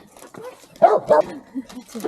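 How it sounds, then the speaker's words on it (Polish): Dogs greet new arrivals at a stop near Supraśl, Poland, with a couple of close, sharp barks and yips around the middle, while people talk nearby. "Pieski nas witają."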